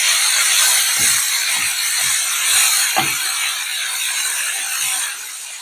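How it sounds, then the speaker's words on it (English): Bacon omelette frying in a pan gives a bright, continuous sizzling hiss close by, scattered with soft pops and crackles, steady then easing slightly near the end, with no talking. "It's got a lovely sizzle."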